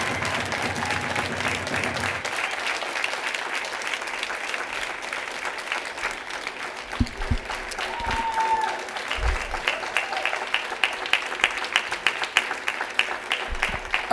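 Audience applause at a Board of Education regular meeting, a long sustained wash of many hands clapping, steady and fairly loud, with a few sharper individual claps and thuds toward the end.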